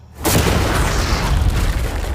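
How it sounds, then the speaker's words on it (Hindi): A large, loud explosion blows a container apart, a sudden booming blast followed by a dense, sustained roar of rumbling debris and noise. "वो धमाका टैंक वाले से बहुत बड़ा होगा।"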